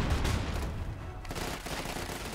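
Company of Heroes 2 match audio: a grenade exchange with rapid gunfire bursts and dull explosive thumps crowd together loudly at first, then thin out into scattered shots.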